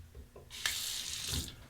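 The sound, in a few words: cold water running from tap onto razor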